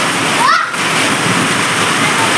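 Heavy downpour roaring steadily and loudly nearby, a dense wash of rain noise with a brief voice sound early on.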